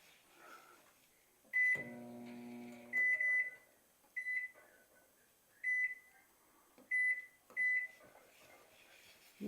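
Digital kitchen timer being set while making a homemade plain cracker snack: short, sharp electronic beeps in single and double bursts, spaced through the clip in a quiet kitchen, with a brief voice sounding early on.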